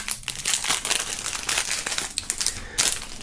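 Plastic foil wrapping around an album and a bag is handled during a box unboxing, giving continuous close crinkling and crumpling with no speech.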